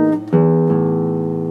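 A single guitar barre chord rings out across all strings, struck once and then re-strummed, its bright harmonic tones sustaining close and clear with no talking.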